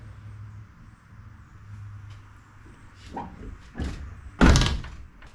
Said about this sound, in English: Door still shuts pretty good.